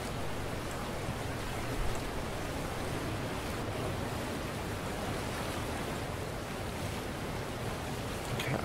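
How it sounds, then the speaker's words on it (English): Steady broadband rushing of water in a video game, a constant loud wash with no breaks, consistent with flooding water rising through corridors. "the water seems to be rising"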